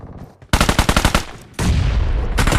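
Automatic gun fire in a squad-based battle royale shooting game: a rapid burst of about a dozen close, loud shots, then a dense sustained roar of continuous gunfire with no talk.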